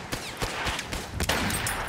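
Rapid bursts of enemy machine gun fire in the shooter game Battlefield 1, a loud, close clatter of shots with broadband cracks repeating irregularly over a noisy battlefield background.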